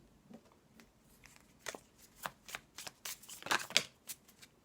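Close, quiet riffling and slapping of a deck of oracle cards being shuffled, irregular soft flutters and taps building into a few sharper snaps, with no voices.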